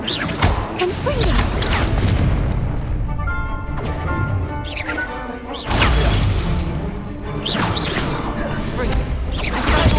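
Confringo fire-blast spell cast in the Hogwarts Legacy video game, a loud shattering burst that erupts amid constant game sound, with a second forceful blast later on; someone speaks over the action.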